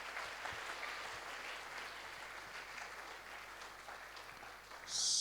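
Applause for Jesus fills a church during a midweek communion service, a steady wash of clapping from a congregation that thins slightly before swelling again at the end.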